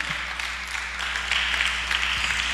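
A church congregation applauding during a sermon, a steady patter of many hands clapping at moderate loudness over a low hum from the room, continuing evenly throughout.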